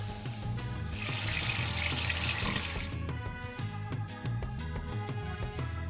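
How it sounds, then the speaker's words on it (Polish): Tap water runs into a kitchen sink while a dirty plate is scrubbed clean with a sponge; a broad steady rush of running water fills the first half, then thins into splashing, clinking and rubbing noises close by. "I łatwo umyj talerz gąbką."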